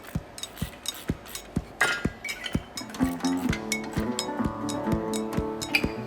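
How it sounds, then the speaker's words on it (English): Metal tools clink and tap against a Kawasaki engine's carburetor as it is tightened, a steady run of sharp, close metallic ticks and clanks with a ringing tone building in the second half; no talking. "I gotta tighten carburetor up."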